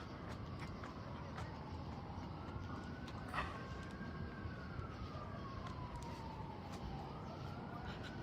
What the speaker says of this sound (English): Although I do hear sirens in the distance.